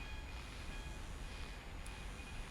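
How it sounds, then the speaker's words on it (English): A train rumbles past in the video game What Remains of Edith Finch, a steady low, broadband roar that stays constant and fairly quiet with no voices. "That was the train coming by on schedule every day for like 40,"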